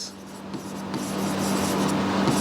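Chalk or marker scratching on a classroom board during an economics lesson, a steady close rubbing and scraping with small taps, no talk.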